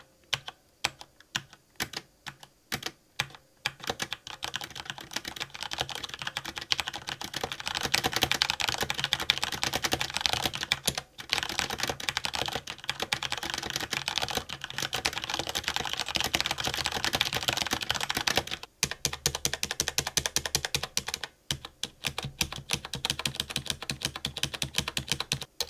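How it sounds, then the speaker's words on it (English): Rapid typing on a G.Skill KM780 mechanical keyboard with Cherry switches, dense clacking keystrokes at varying speeds, close and steady with brief pauses, no talking. "Here's a typing test at various speeds so you know what they sound like."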